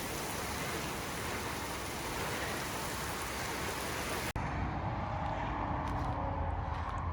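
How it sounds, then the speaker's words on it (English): Steady rain falls near a driveway blocked by a fallen tree, a dense, even hiss throughout, with a brief drop-out midway and the patter continuing slightly thinner afterward. "now we have rain"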